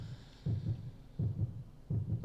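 Steady heartbeat effect in Cool Boarders 2 on PS1, soft low double thumps repeating three times at an even pace, faint and alone.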